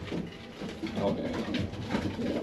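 Racing pigeons cooing inside a loft, a continuous low murmur of several birds close by, mixed with background voices and room noise.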